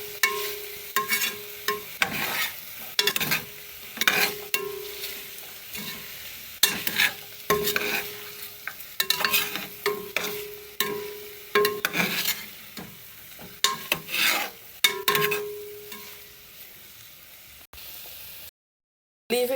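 Chicken and string beans stir-fry in a pot, with repeated scraping and clanking of a spoon against metal over a soft sizzle, close and uneven in rhythm, ending in a brief silence.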